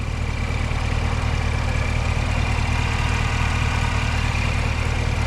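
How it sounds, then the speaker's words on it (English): A supercharged LT4 V8, taken from the C7 Z06, idles in a 2022 Chevrolet Camaro ZL1 automatic: a steady, deep, rumbling burble with constant low throb and no voices. "there is your supercharged LT4 out of the C7"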